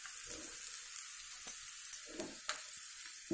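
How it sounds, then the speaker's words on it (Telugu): Chopped garlic sizzles steadily in hot oil for a tempering with mustard seeds and curry leaves, made for gongura chutney; a close, continuous crackling hiss with a few louder pops and stirring scrapes, no talk. "ఇదిగోండి ఎల్లుల్లిపాయలు ఇలా ఎర్రగా వేగాలి."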